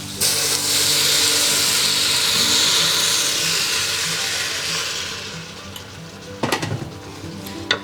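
Crispy roast pork pieces sizzle and hiss loudly as they are stir-fried in a clay pot. The frying gradually eases, then a few sharp scraping and clattering knocks sound near the end.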